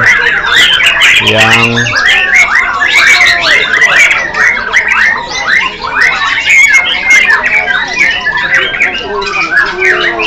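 Many songbirds chirping and squawking at once at an outdoor bird singing tournament, a loud dense chorus of overlapping calls and warbles, with a voice briefly heard near the start.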